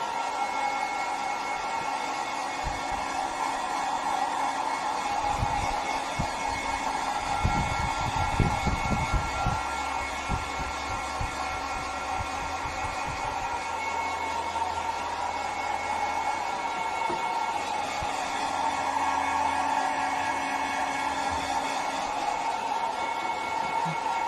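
A hair dryer blows steadily on wet paint on a flamingo painting, a constant close whirring roar with a faint hum that runs unbroken throughout, with brief low thumps and handling bumps near the middle.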